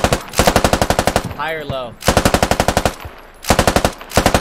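Rapid automatic gunfire from the Squad video game hammers in three loud bursts, broken by a short pause where a voice speaks briefly between volleys.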